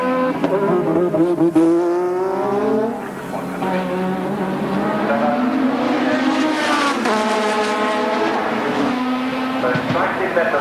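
Ayrton Senna's Formula 1 car on C compound race tyres during 1986 Australian Grand Prix qualifying, its engine screaming through rising and falling gear changes, loud and close, with commentary voices talking over it.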